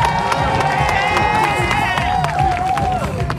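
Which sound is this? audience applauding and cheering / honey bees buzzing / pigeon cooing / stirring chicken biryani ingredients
audience applauding and cheering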